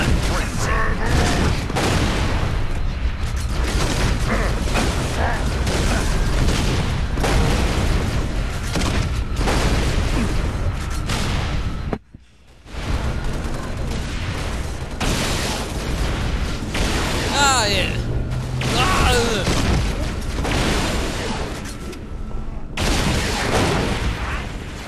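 A video game firefight fills the scene with gunfire and booming explosions: loud, dense and nearly continuous, with a brief drop to quiet midway, and voices mixed faintly under the din.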